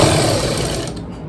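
Sewing machine running steadily as it stitches fabric with a drawstring tucked inside, a loud, continuous whirring rattle close up that slows and stops near the end.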